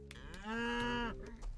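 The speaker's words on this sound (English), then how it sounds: "Moo!" A single deep, drawn-out cattle moo in the video game Sand Land, loud and resonant, lasting about a second over faint background game noise.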